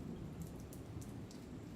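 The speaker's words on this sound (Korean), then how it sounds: "바깥에는 세찬 빗소리가 들렸다" Heavy rain pouring outside, a soft, continuous hiss of falling water with scattered spattering drops, heard quietly and at a distance.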